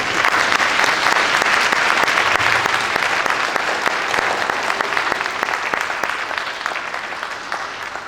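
Orchestra parents applauding in a concert hall before a youth orchestra performance, a dense, loud and steady wash of clapping from the whole audience that tapers slightly toward the end.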